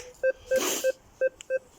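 A metal detector sounds in a forest shrine area, giving about five short, clear, evenly pitched beeps in an irregular rhythm, close and distinct. A brief noisy scraping burst cuts in between the early beeps.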